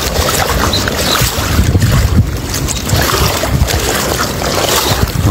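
Strong wind by the shore of Lagoa dos Patos at Arambaré buffets the microphone in a constant, loud rushing roar with gusty swells throughout.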